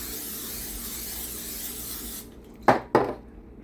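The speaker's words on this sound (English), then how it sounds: "we're gonna spray the pan" A steady hissing spray runs for about two seconds, then stops, followed by two sharp metallic clanks of a pan close by.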